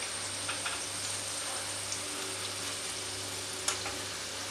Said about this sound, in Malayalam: ഓരോ സൈഡും ഇങ്ങനെ തിരിച്ച് മറിച്ച് നോക്കി ഇട്ട് കൊടുത്ത് ഫ്രൈ ആക്കിയാൽ മതി